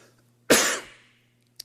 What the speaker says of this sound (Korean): 저 에어컨 때문에 제가 기침이 나는데